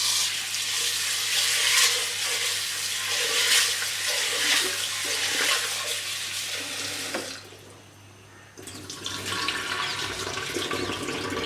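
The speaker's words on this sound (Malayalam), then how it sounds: "ഇനി നമുക്ക് ചെറുപയറൊന്ന് നന്നായിട്ട് കഴുകിയെടുത്തിട്ട് വരാം" Steady running water splashes and rushes continuously as green gram is rinsed under a tap, with a brief quieter dip partway through.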